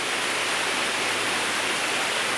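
Water pours steadily over Yorkshire limestone falls running at low flow, a dense continuous rushing roar with no break or variation, fairly close and loud on its own.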